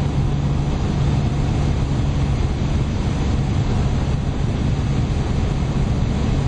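Lotus Omega saloon cruising at high speed in sixth gear at about 2600 rpm, a steady, loud broadband rumble of wind, road and engine drone that holds evenly and without breaks throughout.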